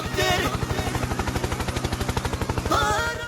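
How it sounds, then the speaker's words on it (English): Rapid, evenly pulsing rotor thumps from a helicopter in the video game BeamNG.drive, a steady chopping beat throughout with brief tonal game sounds near the start and end. "Helicopter, helicopter."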